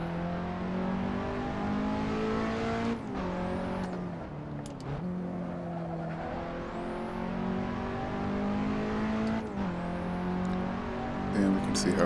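A Nissan S15 Silvia engine in a racing video game revs hard and steadily, climbing through gears with brief dips at each shift, loud and continuous; a voice talks over it.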